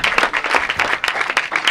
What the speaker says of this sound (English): give Gio a round of applause.